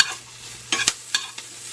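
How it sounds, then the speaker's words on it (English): Sausages frying in a pot, giving a steady sizzle with a few sharp stirring scrapes and clinks close by. "We're gonna put our sausage in here and you're going to cook your sausages."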